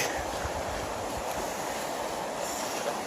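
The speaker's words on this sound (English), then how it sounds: "It's a nice little river that runs by here" A small river flows past a roadside pull-off before a bridge, giving a steady, broad rushing wash of water that stays constant and fairly loud throughout.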